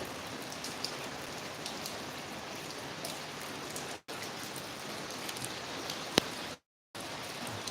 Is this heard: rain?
yes